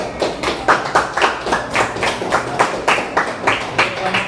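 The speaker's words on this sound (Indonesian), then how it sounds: "Tepuk tangannya mana?" An audience claps hands in a steady, rhythmic pattern, a run of even beats at a lively pace, with faint voices in the background.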